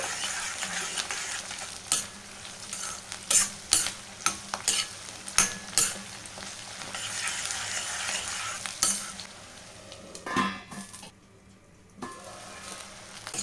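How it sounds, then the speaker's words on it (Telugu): Onions, dried red chillies and curry leaves frying in oil as the base for a chicken dish, with constant sizzle and repeated sharp spatula clinks against the pan, close up, then a brief quieter stretch. "ఇప్పుడు వీటిని అయితే మంచిగా ఫ్రై చేసుకోవాలి ఇప్పుడు ఆనియన్ ఎర్రబడేంత వరకు అయితే ఫ్రై చేసుకోవాలి"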